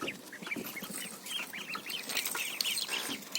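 Newly bought duckling chicks peep repeatedly in a small home duck farm, a busy overlapping chorus of high, close, chirping calls.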